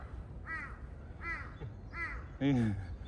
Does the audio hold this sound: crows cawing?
yes